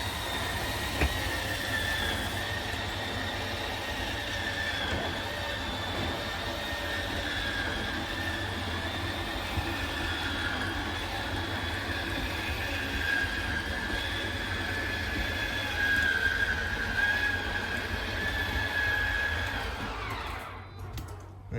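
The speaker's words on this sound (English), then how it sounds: "you're going to hear the motors whine and then they'll turn off automatically" The slide-out motors of a 2022 Forest River Lacrosse 3411 RK RV give a steady motorized whine that hums continuously for a long stretch, then cuts off abruptly near the end.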